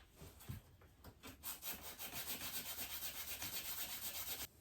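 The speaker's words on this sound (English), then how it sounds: "Let me just sand down the sides of it just a little bit." Short back-and-forth rasping strokes come from sanding the sides of a small wooden part at a workbench, starting sparse and then settling into a quick steady rhythm, close and fairly quiet, with no talking.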